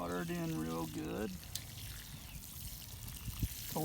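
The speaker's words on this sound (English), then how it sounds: "And we water it in real good." A watering can pours about two gallons of water onto a newly planted shrub in a garden, giving a steady soft trickle and splash after a brief stretch of speech, fairly faint and close.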